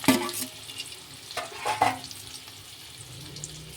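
Potatoes with spices and green chilies fry in a pan while being stirred, giving a soft, quiet sizzle broken by a few sharp scraping strokes near the start and middle.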